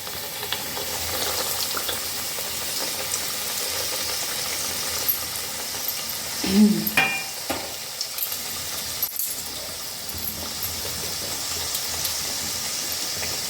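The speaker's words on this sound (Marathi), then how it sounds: "दोन्ही साईडनं करंजी तळून घेऊया" Karanji pastries made with wheat flour deep-fry in hot oil in a kadhai, a steady close bubbling sizzle throughout with a brief burst of louder crackling midway.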